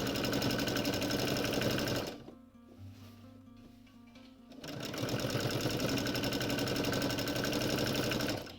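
A sewing machine runs in two fast, steady stitching bursts while foundation-pieced quilt blocks are sewn, with a short quieter pause between runs.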